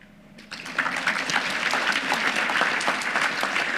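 A banquet audience applauds the chamber staff at an annual meeting and membership banquet in a hotel, a dense, steady clapping that swells in after a quiet half-second start and holds at a moderate level.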